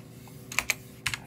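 Several quick keystrokes on a computer keyboard, a few sharp clicks in two small bursts, close and clear with no talking.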